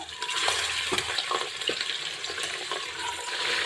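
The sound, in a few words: mutton frying in pressure cooker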